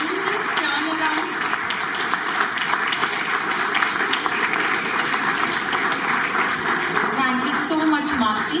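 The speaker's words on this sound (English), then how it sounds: "can we have a round of applause?" A standing audience at a launch event claps continuously, an even, lively applause that runs throughout while voices speak over it.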